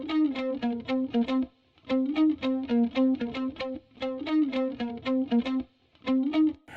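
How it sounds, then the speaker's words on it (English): Double-tracked distorted electric guitars, panned left and right, play a chugging, rhythmic funk-disco pop riff in short phrases with brief gaps, thick and shimmering with a chorus effect. "The next thing we did was we added these guitars, and it's double tracked"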